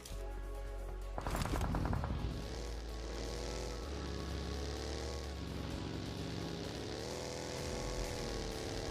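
Automatic gunfire from the side in the mobile game PUBG Mobile, one short rapid burst lasting about a second, sitting over a steady droning aircraft or engine hum that runs through the whole stretch.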